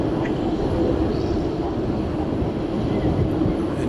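A UPS cargo jet taxiing at night at DFW Airport gives off a steady, broad engine rumble and roar that holds constant throughout, heard from a distance with no talking.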